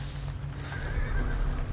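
A horse from the Ghost of Tsushima video game neighs loudly in a long, shaky whinny over low rumbling game ambience, with faint hoof clopping and no talk.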